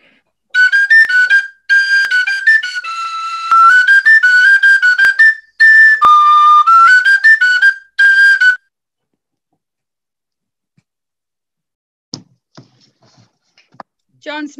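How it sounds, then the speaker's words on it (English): A simple three-hole pipe whistle plays a lively folk tune in several clear, loud phrases with short pauses, followed by quiet stretches and faint scattered clicks. "Maybe I'll just play the whistle"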